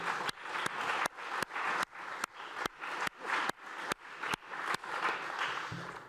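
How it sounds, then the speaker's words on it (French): Applause during a Paris city council session, a steady run of clapping with sharp periodic louder claps standing out at regular intervals across the whole stretch, fairly close and dense, no talking over it. "On peut vous applaudir d'ailleurs"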